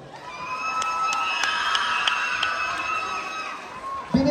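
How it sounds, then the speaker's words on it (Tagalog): Audience at a pageant-style contest cheering and shouting in a steady loud crowd roar, with scattered sharp claps and whoops throughout and a louder burst near the end. "bakit hindi nyo sabay-sabay palakpakan at hiyawan ang may morenang katawan, Binibining Sanya Lopez."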